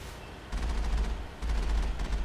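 A booming cannon barrage in the video game Mass Effect, quieter at first, then a dense loud burst of repeated blasts with a brief gap partway through, no voices.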